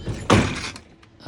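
A workshop drawer slides and lands with a solid wooden thunk, followed by a quieter rattle and a second knock at the end, close by with no talking.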